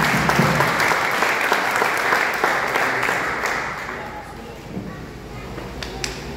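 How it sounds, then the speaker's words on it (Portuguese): A congregation at a church service claps in sustained applause that fills the room and gradually tapers off. "Aquela salva de palmas."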